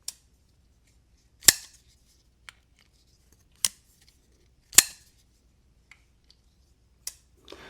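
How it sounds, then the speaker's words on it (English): Sharp snapping clicks of a Kizer Militaw pocket knife's detent as the blade opens and shuts, with about half a dozen crisp, close snaps spaced unevenly over several seconds and near silence between them. "Very snappy detent, guys."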